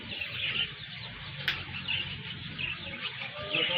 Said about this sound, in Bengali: হ্যাঁ, টিয়া পাখি।